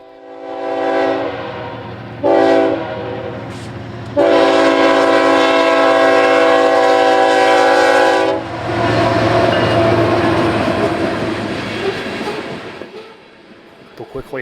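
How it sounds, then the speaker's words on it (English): CSX C800 trackage-rights freight train off the BNSF on the Chicago line, bound for a generating station: loud horn blasts, two short then a long sustained one, over the rumble of the passing train, which continues after the horn ends and fades away. "The CSX C800 is a trackage rights train that came off the BNSF"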